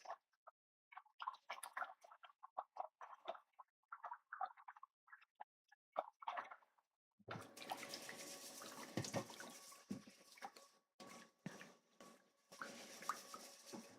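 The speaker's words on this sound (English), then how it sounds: "Wash your rice really well." Rice gets scrubbed by hand in water to rinse off the starch: soft scattered swishes and drips at first, then a steadier run of water with rhythmic sloshing and rubbing, fairly quiet and close, with no talking.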